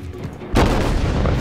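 Naval gunfire in the video game World of Warships, fired from a cruiser or battleship: quiet ambience, then a sudden loud boom that opens into a sustained rumbling roar for about a second.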